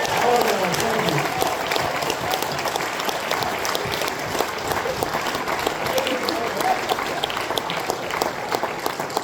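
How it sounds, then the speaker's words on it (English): Comedy club audience applauding a stand-up comedian at a night of love and laughter, sustained dense clapping mixed with crowd noise and some cheering, loud and continuous. "Keep clapping."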